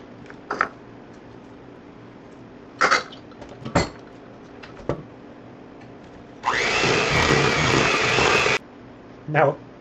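Sugar being mixed into cheesecake batter: a steady, fairly loud whir runs for about two seconds, preceded by scattered clinks and knocks of bowl and utensils.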